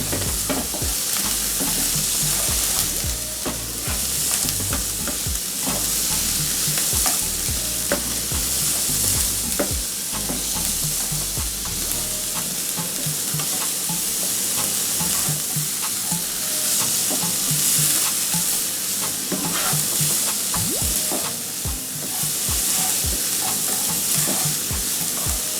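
Garlic sizzles in a hot pan over medium-high flame for shrimp fried rice, a loud continuous crackle with frequent scraping stirs and clatters of a utensil against the pan, close up and with no voices.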